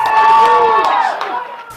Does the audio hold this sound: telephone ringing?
no